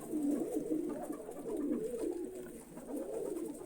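Pet pigeons, a bird received from a friend, coo in low repeated rolling phrases, close and fairly steady throughout, with no talking.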